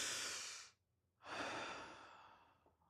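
A slow, deep breath taken close up, with a long airy inhale, a brief pause, then a long, softly fading exhale, with no talking.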